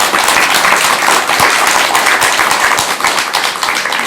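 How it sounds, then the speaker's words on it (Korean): An audience gives loud, close applause for a Buddhist monk, many hands clapping in a thick continuous patter with a few sharper individual claps standing out, sustained evenly throughout. "우리 진호 스님께 큰 격려의 박수 한번 부탁드립니다"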